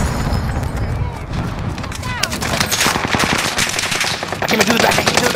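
Rapid automatic gunfire in a Warzone match, loud bursts of repeated shots close by in quick clusters, layered with fainter distant fire and a player's voice talking over the action.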